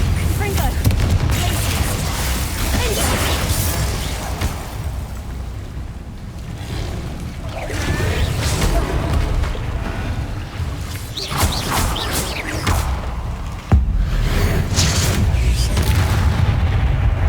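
Spell explosions from Bombarda and Confringo in the video game Hogwarts Legacy boom and crash repeatedly over a dense, rumbling game soundscape, with one sharp loud hit late on.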